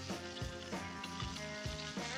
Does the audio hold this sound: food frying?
yes